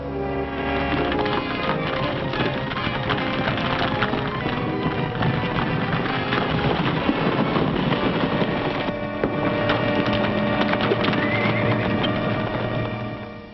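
Horses gallop hard in a Western chase, a steady drumming of hooves that fills the clip alongside loud, busy film score, with a brief neigh mixed in.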